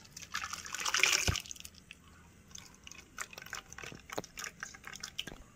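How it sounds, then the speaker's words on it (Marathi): Ghevar batter is poured through a strainer into a vessel to remove lumps, a brief liquid rush and splash followed by soft drips and small wet sounds. "आपण गाळून घेऊया, जे गुठळ्या वगैरे असेल ते निघून जाते"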